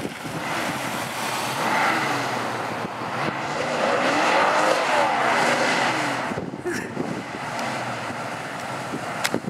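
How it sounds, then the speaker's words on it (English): Dodge Dart doing a burnout, its engine roaring under strain while the tires squeal in a sustained, wavering screech lasting several seconds, heard from a short distance with a brief burst of noise near the end. "Now he's gonna do a burnout"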